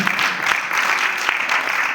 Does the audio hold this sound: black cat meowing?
no